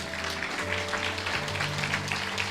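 A church congregation applauds with a steady, dense wash of clapping that runs the whole time, over sustained held musical tones.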